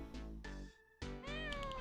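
Cats meow in the Jingle Cats video game: three or four close, loud meows come one after another with short gaps, each a bright, tonal cry that rises and falls.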